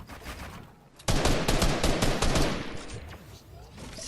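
Rapid bursts of video game gunfire in a competitive esports match break in suddenly after a quiet second, dense and loud for about two seconds, then tail off into lighter shots and game ambience.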